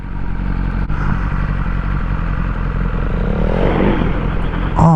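A motorcycle engine, with an S1000R 2022 and KTM 390 Duke around, roars loud and steady for the whole stretch, building into a harsher, rising rev near the end as a bike does burnouts close by.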